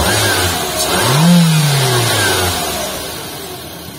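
A 2022 Mitsubishi Xpander with a 1500cc engine revs up once, the pitch climbing then slowly falling back toward idle, close and loud over steady road and wind noise.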